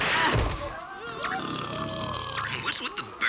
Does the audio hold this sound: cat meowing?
no